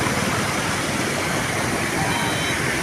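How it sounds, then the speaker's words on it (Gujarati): The flooded Malan river in Mahuva rushes past in a loud, steady roar of fast-flowing water, dense and unbroken from start to finish. "એટલો વહેતો પ્રવાહ છે માલણ નદીમાં"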